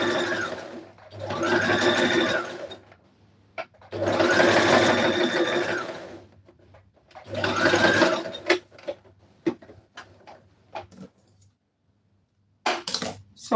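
A sewing machine stitches a spaced zigzag on red carpet dress fabric in three loud bursts of steady rapid whirring, separated by pauses filled with clicks and handling noises, with a brief final burst at the end.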